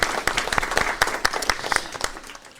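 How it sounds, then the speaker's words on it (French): A small crowd at a Bricomarché store in Tarascon claps for the Tarascon rugby club, with crisp individual claps in an uneven rhythm, close and fairly loud, trailing off at the end. "le rugby club de Tarascon qu'on applaudit s'il vous plaît"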